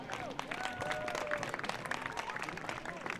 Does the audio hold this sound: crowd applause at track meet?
yes